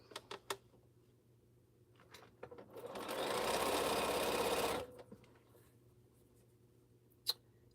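A Bernina sewing machine runs in a short, even burst of stitching lasting about two seconds, with quiet handling clicks and taps before and after.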